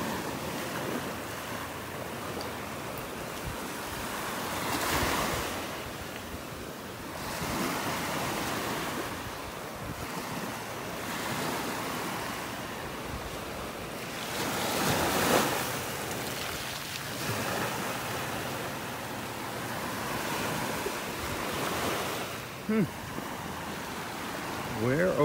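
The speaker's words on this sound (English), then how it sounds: "The waves are just kind of spreading the shells out on the beach here." Ocean waves wash onto a shell-strewn beach in North Naples, Florida, with steady wind noise buffeting the microphone; surges swell and recede in broad, repeating pulses every several seconds, loud and close throughout.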